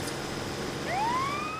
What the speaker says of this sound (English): Hey, siren's back on.